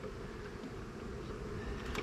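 Bees buzzing around hives, a continuous low drone heard close and fairly steady, with no talking.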